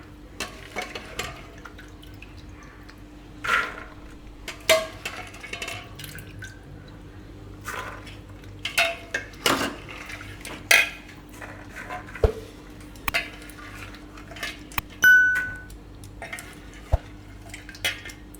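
Soaked chickpeas rattle and clink as they are tipped into a metal pressure cooker, with scattered knocks of utensil on pot and light watery drips, close by in a quiet kitchen.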